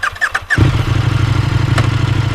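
A KTM Superduke 1290 R motorcycle cranks briefly and fires up, then settles into a loud, close, steady rumbling idle with no talking.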